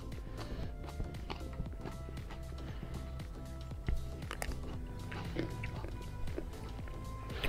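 Crunchy biting and chewing of a cucamelon, a small grape-sized fruit with a cucumber flavor, heard as repeated close crisp crunches over a busy background.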